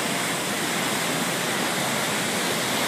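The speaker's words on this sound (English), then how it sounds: "and there's the ocean." Ocean waves beside a Japanese seaside restaurant make a steady, dense wash of surf noise that stays even throughout, with no voices.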